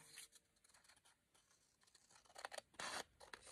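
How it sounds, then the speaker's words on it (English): Scissors snipping through paper for a mini journal, a few quiet close cuts and rustles in near silence, with a louder sustained slice toward the end. "So I have to cut it just a little bit thinner."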